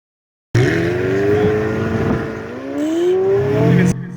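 McLaren 720S sports car in mango orange metal-flake paint at a Ferrari club hill climb, its engine loud and close, pitch rising and falling through several revving sweeps over about three and a half seconds.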